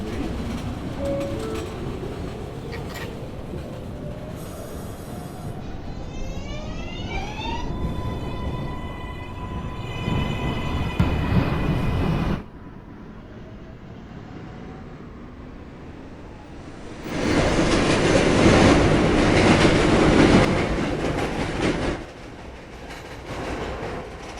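New York subway 4 train heading toward Manhattan, approaching Orchard Street: rumbling wheels and a rising motor whine with tonal chimes, a short quieter stretch, then a loud roaring surge of rail noise, close and steady, with no talking.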